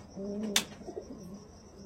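Andhra pigeons cooing nearby, a soft low coo with a sharp brief noise burst partway through, over faint background hum.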